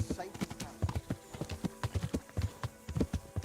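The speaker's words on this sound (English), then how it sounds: "jumping on the horse and exploring the countryside" Horse hooves clip-clopping steadily in Kingdom Come: Deliverance while riding across the countryside, a close, rhythmic stream of hoof falls with no talk over it.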